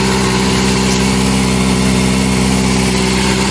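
A Kawasaki ZX-4RR motorcycle engine idling at a cold start with a quiet, stock-like exhaust, a steady, even hum with a constant low throb, close and unbroken, with no talk.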